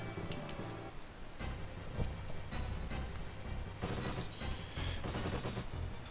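Machine-gun fire in the mech strategy game Front Mission rattles in dense, continuous bursts that swell and ease over a few seconds, loud and sustained with no talking.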